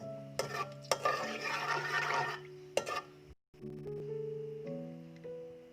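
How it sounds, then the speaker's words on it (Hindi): A spoon stirs and scrapes through gur chawal, jaggery rice with almonds, in a pot: bursts of gritty scraping, then quieter clinks, over a steady tonal hum in the background. "और अच्छी तरह मिक्स कर लेंगे।"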